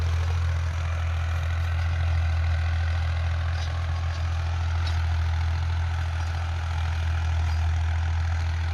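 A Ghazi 85 tractor fitted with a rotavator idles in a village, a steady, loud low-pitched engine rumble that holds unchanged throughout with no voices.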